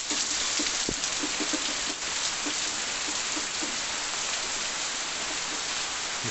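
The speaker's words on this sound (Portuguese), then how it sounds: "Agora praticamente todo dia essa hora tá chovendo." Steady rain falling in the Cariri region of northeast Brazil, a constant close hiss of drops hitting the ground and surfaces, with a few louder drips and taps scattered through.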